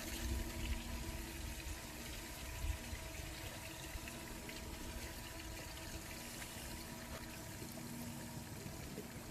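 Water gushes steadily from a mud pump used for well digging, a constant broadband rush with a faint low hum running underneath and no talk.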